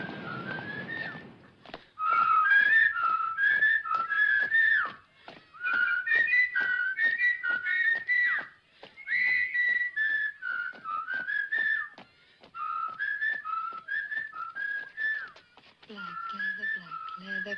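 A person whistles a lively, bouncing tune in short repeated phrases with brief pauses between them, close and clear, with no talking.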